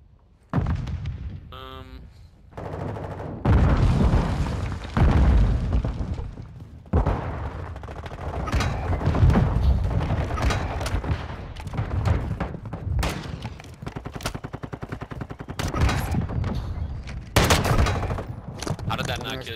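Bursts of rapid automatic gunfire and explosions in a Call of Duty: Modern Warfare II Search and Destroy match, loud and dense across the clip with players talking over it.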